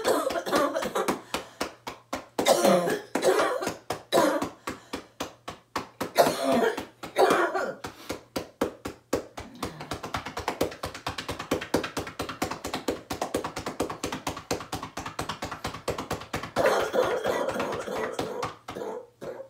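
Someone coughs repeatedly in harsh, clustered bursts and clears their throat over a constant rapid tapping of chest percussion on the side of the lung.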